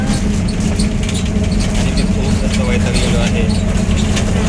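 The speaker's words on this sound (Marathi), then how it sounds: "आम्ही बसले आता बसमध्ये आवाज येतोय का तुम्हाला" The interior of a moving bus sounds like a steady, loud engine and road rumble with rattling and squeaky body noises, and people talk over it.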